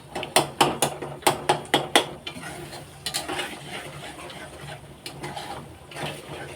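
Egg bhurji being stirred in a pan on a high gas flame: a quick run of sharp spatula scrapes and taps against the pan, then softer irregular stirring over a faint sizzle.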